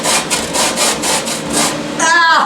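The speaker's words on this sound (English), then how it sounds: "I'm going to use the grater here. This way, the cheese grater." Parmesan cheese grated back and forth on a handheld cheese grater, six quick rhythmic rasping strokes close up, ending in a brief different scrape.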